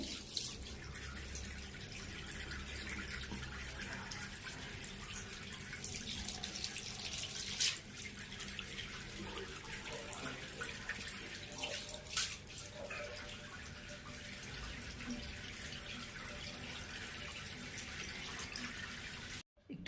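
Tap water running steadily into a sink while someone washes their face, a continuous close splashing and trickling with brief louder splashes, lasting about twenty seconds before it cuts off.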